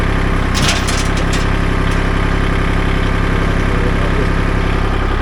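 A tractor engine idles with a steady, loud, low rumble, close by and unbroken, with a flail mower hitched, and a brief faint rattle near the start.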